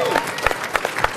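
A short burst of applause at an event in Georgia, with scattered claps rising and falling over a crowd murmur, moderately loud and close.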